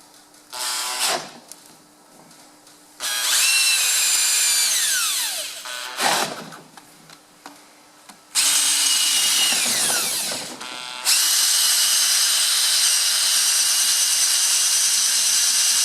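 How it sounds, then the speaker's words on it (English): A power drill bores beside the rear axle of a Massey Ferguson 35X tractor, whining up in several bursts of rising pitch separated by pauses, close and loud, with the last run held steady. "With the drill across to the axle as much as you can."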